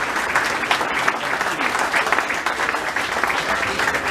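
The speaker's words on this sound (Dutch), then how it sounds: "Geef ze nog een applaus" A crowd applauds at an Aalst carnival association's book presentation for its 50th anniversary, with dense, loud, continuous clapping that fills the whole stretch.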